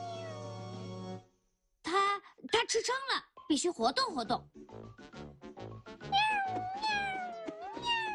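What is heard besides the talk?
kitten meowing in a cartoon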